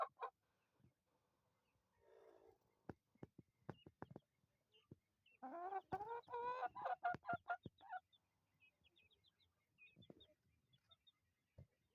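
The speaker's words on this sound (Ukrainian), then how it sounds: "Ось мої ще менші цесарочки з курочкою. І курчатка." Chickens, a hen with chicks and young guinea fowl cluck and peep at close range, with scattered pecking taps and a burst of busier clucking midway, otherwise quiet.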